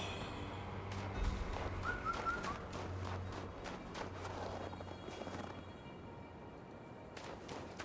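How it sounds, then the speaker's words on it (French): Birdsong in the video game Wuchang, with a few faint chirps over a steady outdoor ambience and soft footsteps, with no talking. "Il y avait un oiseau il y a 2 minutes qui piou-pioutait."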